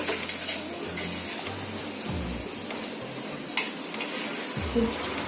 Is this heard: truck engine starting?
no